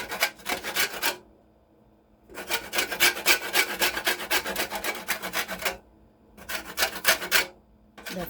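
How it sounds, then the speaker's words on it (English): An orange peel is rubbed against a grater for a sponge cake mixture, producing rhythmic rasping strokes in three bursts separated by short pauses, close and fairly loud with no talking. "going with the orange peel. Remember, don't grate the white part"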